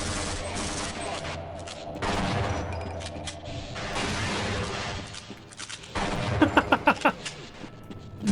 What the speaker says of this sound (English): But you're shooting through the fence!